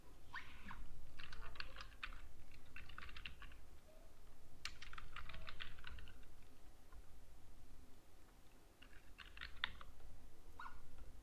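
Bursts of typing on a computer keyboard as a signature name is entered, quick clicking keystrokes in several short clusters separated by pauses, close and quiet over a low background hum.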